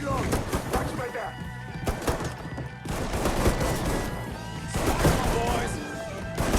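Gunfire in Mafia III sounds as a dense, continuous barrage of loud shots and crashes, with bursts throughout and people shouting over the chaos.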